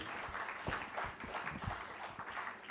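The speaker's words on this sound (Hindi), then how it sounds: "तालियों के साथ स्वागत" Audience applause welcoming the keynote speaker at a public leadership camp session, a steady wash of clapping from a mid-sized crowd lasting throughout, fairly distant and even.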